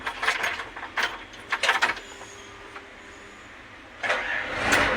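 A backhoe engine being started: quiet mechanical clicks and clunks come first, then a louder burst of rough cranking noise near the end, with no talking.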